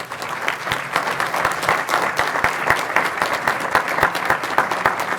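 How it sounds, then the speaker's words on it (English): Sustained audience applause at a food justice summit morning keynote, a dense steady patter of many hands clapping for the full stretch with no speech over it. "Let's give Cortney another round of applause."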